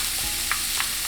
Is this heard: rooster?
no